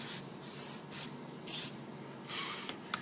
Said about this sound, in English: depending on how fast you want it to set, give it a quick spray